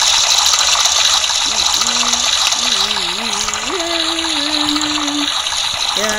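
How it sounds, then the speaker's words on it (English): Shower water running in the Roblox game Brookhaven, a loud and steady gushing spray that lasts the whole stretch, with a voice and game tones sounding faintly over it. "Yeah, take a shower. Shower time."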